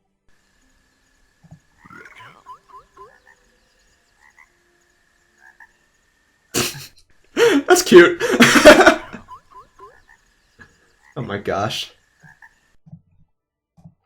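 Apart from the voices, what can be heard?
frogs croaking in Hytale video game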